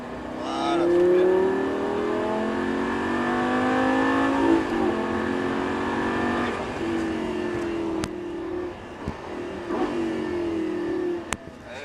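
A Lamborghini LP560-4 four-wheel-drive engine accelerates on a track during a driving course, a loud, steady roar whose pitch climbs through the gears, with an instructor's voice heard over it.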